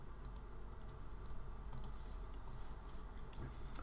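Computer keyboard keys are pressed during 3D modeling work, a quiet run of soft clicks and taps in an irregular rhythm over a faint background hum, with no talk.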